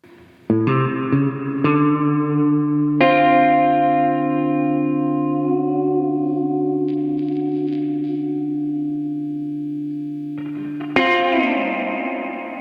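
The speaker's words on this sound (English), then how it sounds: "It's just a really good spring reverb." Electric guitar notes and chords ring out through the spring setting of a Hardwire Supernatural reverb pedal, each strike sustaining with a long, shimmering, springy decay before a final strum.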